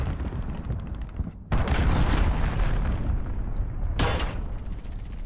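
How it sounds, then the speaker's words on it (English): Explosions and heavy booms from a cruise missile strike in Call of Duty: Modern Warfare, a dense rumbling barrage with a sharp blast at the start of the second half and another burst near the end. "Allied cruise missile launched."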